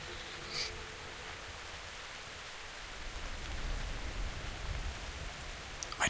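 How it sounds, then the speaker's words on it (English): Rain ambience from the game World of Warcraft: a steady, soft wash of falling rain with faint patter, continuous throughout and heard alone. "Very, very nice rain sounds."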